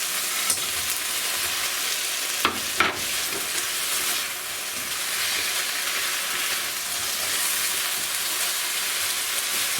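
Crispy baby corns frying in a hot pan, a loud, continuous sizzling hiss lasting about ten seconds, with a couple of sharp clicks early on.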